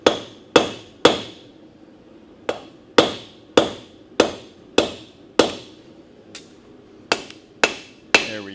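A blacksmith's hammer strikes hot metal on the horn of an anvil in loud, ringing, close blows, about fifteen hits in an uneven rhythm with brief pauses, each clang decaying quickly, with no talk.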